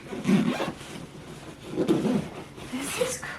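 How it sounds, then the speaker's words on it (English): A clothing packing cube being zipped closed, with two or three scratchy zipper pulls at close range while a person talks over them. "and then we're going to zip up"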